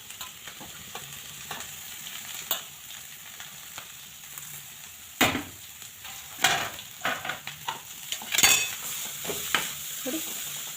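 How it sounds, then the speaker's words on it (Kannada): Sliced carrots and onions frying in a pan for carrot palya, a steady close sizzle broken by irregular stirring scrapes and clinks of a spatula on the pan, with no talk. "ಕ್ಯಾರೆಟ್ ಚೆನ್ನಾಗಿ ಸಾಫ್ಟ್ ಆಗೋ ಥರ ಇದು ಫ್ರೈ ಮಾಡ್ಕೊಬೇಕು"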